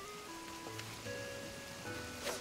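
Soft, steady rain in the video game Animal Crossing: New Horizons, a faint continuous hiss beneath gentle in-game music tones.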